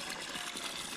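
Water flows onto freshly planted organic vegetable seedlings in a home garden, a soft continuous trickling and gurgling, faint and steady.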